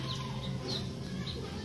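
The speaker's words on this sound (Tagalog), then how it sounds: "Yan yung manok ko." Hens cluck softly over a steady, noisy outdoor background, with a few brief higher calls scattered through.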